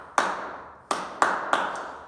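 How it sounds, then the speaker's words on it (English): A teacher at the front of a class claps a rhythm for a dictation exercise: four crisp, close hand claps with a ringing room tail, a gap after the first and then three in quicker succession. "clap a rhythm"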